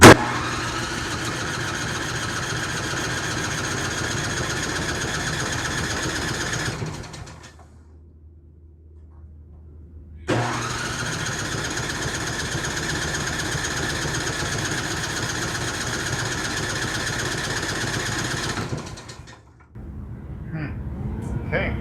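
A Craftsman II snowblower engine cranks on its electric starter and runs at a steady, loud idle, cuts out for a few seconds, then restarts and idles again before dropping off near the end.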